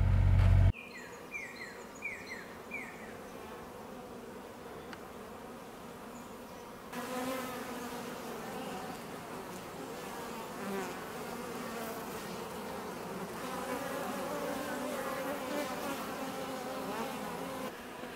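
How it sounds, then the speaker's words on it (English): Honeybees in an apiary bee yard hum continuously and fairly loud close by, a dense steady drone with individual insects buzzing past, no voices present. "Here we are at the bee yard."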